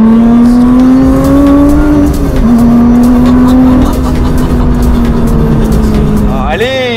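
A rally car engine holds a strong, steady droning note that climbs gradually, then a sharp rising rev near the end, loud and close, at a rally event.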